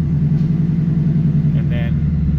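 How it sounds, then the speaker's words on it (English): A car idling with a steady low engine rumble, throttle easing on as the transmission is put into drive and tries first gear; a brief faint higher tone rises near the end. "If you start the car, you put it in drive, it tries first gear,"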